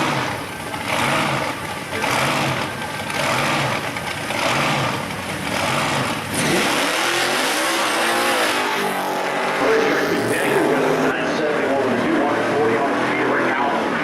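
A 1970 Chevrolet Camaro drag car at a Pro Street drag racing event, its engine rumbling and revving loudly, then roaring off in a hard launch that fades down the track.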